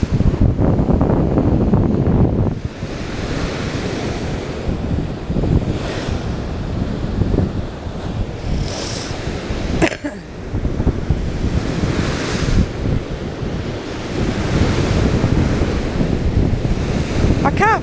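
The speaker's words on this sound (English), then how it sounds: "I love the sound of the sea." Sea waves crash and wash onto the shore at Colwyn Bay, loud and close, with strong wind buffeting the microphone; the surf surges repeatedly in rolling bursts with no talking.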